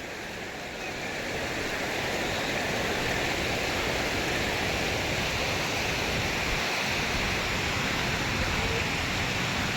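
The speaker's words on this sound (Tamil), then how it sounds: "தண்ணி சவுண்டு அப்படி கேட்குது." Rushing water of Chinna Kallar waterfall in Valparai, heard from a bridge as a loud, continuous roar that swells in the first second and then holds steady.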